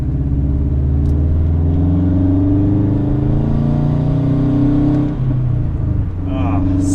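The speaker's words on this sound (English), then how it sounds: "God, do I love the way this thing sounds. I have always been a fan of that Subi Rumble" 2012 Subaru WRX hatchback boxer engine rumbling and revving, a deep throbbing burble with rising and falling pitch, loud and close, with a person speaking briefly near the end.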